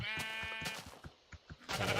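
Sheep in modded Minecraft give a few short, near bleats in a row, the last one loudest, with nothing talking over them.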